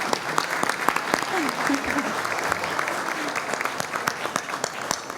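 Audience at the Folio Awards clapping in a hall, a steady, fairly distant patter of many hands that carries on throughout while a voice speaks over it.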